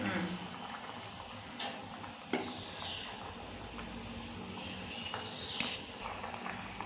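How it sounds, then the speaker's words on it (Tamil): Tea sweetened with country sugar bubbles softly in a pan over high flame, a faint, steady simmer with a couple of brief clinks near the start. "நல்லா ஹை ஃப்ளேமில் கொஞ்ச நேரத்துக்கு கொதிக்க விடுங்க."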